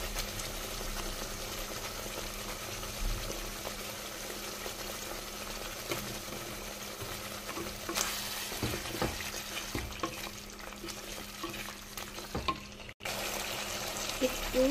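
Spice paste sizzles steadily in a pan while being stir-fried for a Lakshmi puja meal, a dense continuous hiss with small scraping stirs and a brief dip near the end, no voices.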